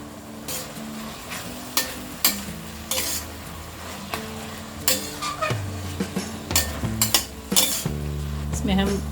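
Three long-slit green chillies frying in a pan give a low sizzle beneath repeated sharp clinks and scrapes of a metal spatula against the pan, the stirring close and irregular, with no talking.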